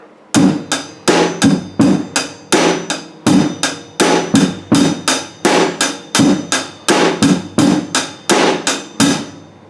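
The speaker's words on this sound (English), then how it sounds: "Doing a standard dotted quarter eighth note feel in the bass drum and in a rock feel." Rock drum beat on a kit, the bass drum playing a dotted quarter and eighth note feel, with steady sharp hits repeating in an even, loud pattern throughout and no talking.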